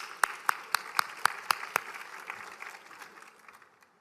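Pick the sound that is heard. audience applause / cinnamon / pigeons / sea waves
audience applause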